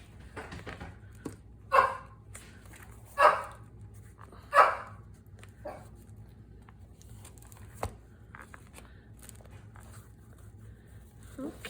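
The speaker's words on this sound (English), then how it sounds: "And there goes my dog." A dog barks three times in quick succession, loud and fairly close, over a quiet room with faint rustling and crinkling of paper or fabric and one softer bark or thump later.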